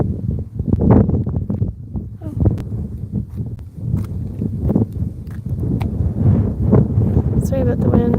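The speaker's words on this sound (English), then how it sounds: "Sorry about the wind." Gusty wind buffets the microphone outdoors in Dublin, Ireland, with a constant low rumble, rising and falling, with faint rustling and scuffing underneath.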